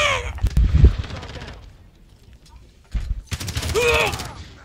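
Gunfire in Call of Duty: Modern Warfare (2019): a dense burst of rapid shots near the start, a quieter lull, then another stretch of sharp automatic fire mixed with game effects.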